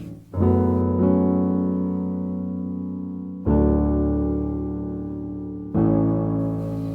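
Three sustained piano chords from a song part ring out one at a time, each left to decay before the next, played close and alone.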